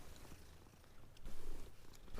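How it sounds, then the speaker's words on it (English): A cat purrs in the Hogwarts Legacy video game as it is petted, a soft, steady rumbling purr close and faint with gentle rhythmic swells and no talking. "you gotta stop to pet the cat"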